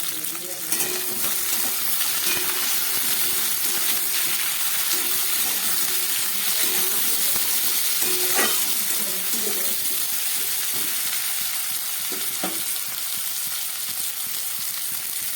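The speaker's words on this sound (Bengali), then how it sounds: "এবার এর মধ্যে আমি দিয়ে দিচ্ছি কেটে রাখা বেগুন আর দিয়ে দেবো টমেটো" Cut eggplant and tomato dropped into frying potatoes in hot oil, producing a loud, continuous bright sizzle with occasional pops and stirring clatter throughout.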